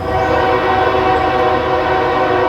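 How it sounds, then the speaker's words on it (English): A train passes close by, its horn blaring in a loud sustained chord over the heavy rumble of rail cars. "There's our train."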